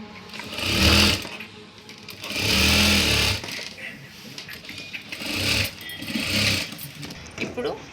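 A sewing machine stitching a blouse runs in three short bursts of fast mechanical whirring, each lasting about a second, with quieter pauses between them while someone talks.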